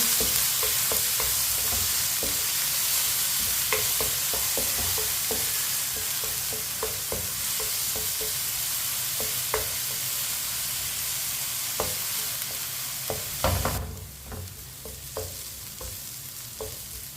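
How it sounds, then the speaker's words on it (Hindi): Chopped onion frying in a pan until lightly browned, with a steady sizzle and repeated stirring scrapes and clicks of a spoon, near and alone, for an aloo bhindi dish. "एक बड़ी कटा हुआ प्याज, प्याज को भी हल्का सा ब्राउन कर लेंगे।"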